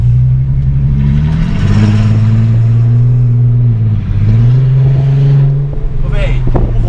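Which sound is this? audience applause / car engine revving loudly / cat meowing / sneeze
car engine revving loudly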